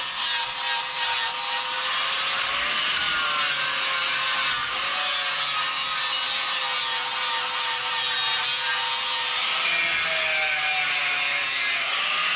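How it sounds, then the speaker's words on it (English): Steel chunks being cut away from an FJ Cruiser frame during a solid axle swap and frame reinforcement, with cutting discs or a Sawzall, a continuous loud grinding screech with a shifting pitch over the whole stretch, no talking. "Just cutting off these bigger chunks."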